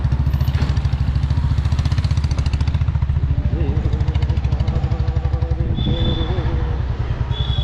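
A tractor engine runs at a steady, close, loud throb with continuous rhythmic clatter that holds evenly throughout.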